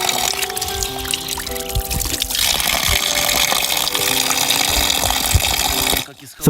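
Mountain spring water trickles and pours steadily in Montenegro, a continuous close splashing flow that cuts off abruptly near the end.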